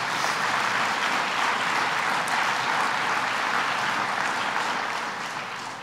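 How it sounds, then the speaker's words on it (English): Audience applause at a state governor's announcement event on after-school programs, a dense steady wash of many hands clapping that holds level, then begins to fade toward the end, with no one speaking. "so let's give them all a round of applause."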